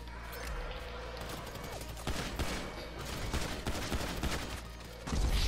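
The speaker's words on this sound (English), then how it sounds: "I'm gonna shoot on you with a pistol" Pistol gunfire in Grand Theft Auto V: a rapid, uneven volley of loud shots cracking over a constant low game rumble, with no talking.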